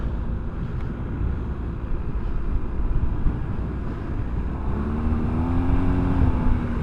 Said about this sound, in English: Man, this bike is powerful. It's very quick. So much torque.